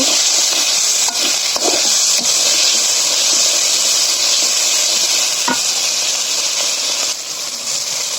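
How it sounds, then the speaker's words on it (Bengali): Spices with chopped tomato and salt fry loudly in a pan, making a dense continuous hiss of sizzling oil with occasional sharp scrapes as they are stirred; no one talks. "এবং সবশেষে দিয়ে দিচ্ছি স্বাদ মতো লবণ দিয়ে এই মশলাগুলোকে আমি ভালোভাবে কষিয়ে নেব"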